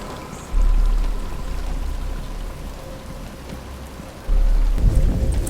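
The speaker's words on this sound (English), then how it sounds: "But it's starting to rain." Steady heavy rain with deep rolling thunder in the Batman: Arkham Asylum video game, a dense continuous hiss of downpour with two loud low rumbles swelling in, no voices heard.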